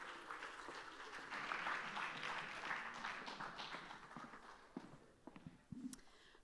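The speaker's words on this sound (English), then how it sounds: "More applause, more applause." A conference audience at a food summit claps in a dense, sustained round of applause that gradually thins out into scattered claps.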